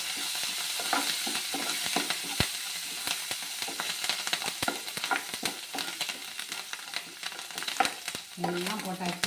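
Green chilli, ginger, curry leaves, coriander, chana dal, urad dal and asafoetida sizzle and crackle steadily in hot oil for an upma, with stirring clicks against the pan, close and continuous.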